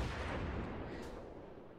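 Naval guns firing high-explosive shells aboard a cruiser in World of Warships, a deep rumbling boom with a rolling low-end tail, fairly faint and fading over under two seconds.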